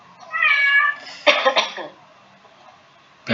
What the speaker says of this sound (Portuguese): É um gato aí querendo falar. É um gato querendo conversar.